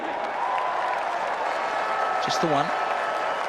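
Cricket crowd at Hamilton applauding and cheering as Brendon McCullum raises his bat, a broad steady wash of clapping under a commentator's voice, with a brief louder swell near the end.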